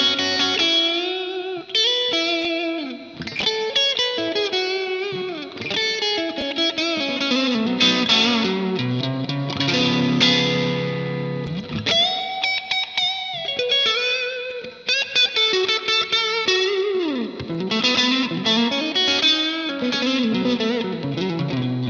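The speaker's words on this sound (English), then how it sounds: "The next pedal on my board is the Black Box Overdrive 2 by Snouse" An electric guitar plays bluesy phrases through a Snouse Black Box Overdrive 2 pedal, giving a warm, driven tone with sustained chords and single-note lines ringing out continuously, no talking.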